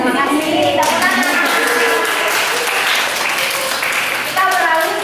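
A classroom group at an Indonesian institute of technology gives a round of hand clapping, loud and continuous, with voices talking and murmuring underneath.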